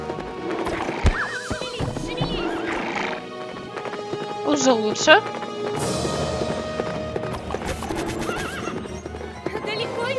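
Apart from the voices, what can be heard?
horse neighing and galloping in Tangled video game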